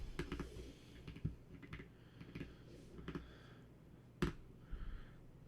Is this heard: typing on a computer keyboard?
yes